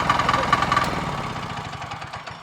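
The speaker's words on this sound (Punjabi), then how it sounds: "ਇਹ ਡੀਜ਼ਲ ਦਾ ਇੰਜਨ ਆ" A small diesel engine chugs at a rapid, steady knocking idle close by, loud at first and easing slightly toward the end.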